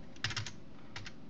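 A short burst of computer keyboard typing, entering an IP address: about six quick clicks, four clustered together and then two more after a pause, over a faint steady hum.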